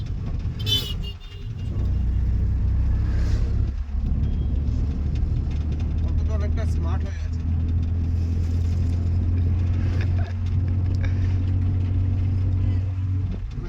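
A manual car on a main road hums with a steady, low engine drone and road rumble heard from inside the cabin, while people talk over it throughout.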